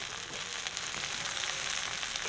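Onions frying in oil for a Jaffna-style snake gourd curry, a steady broad sizzle throughout, moderately quiet and close with no talk.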